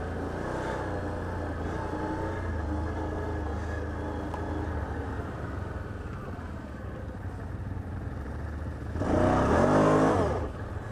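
Honda Rincon ATV engine running steadily while riding on a camping and mudding trail at Tupper Lake, a continuous mid-pitched drone with a louder revving surge near the end.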